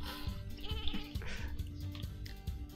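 Cartoonish sheep bleats from the Lumberhill video game, several short bleats scattered across a busy stretch of background game music and effects.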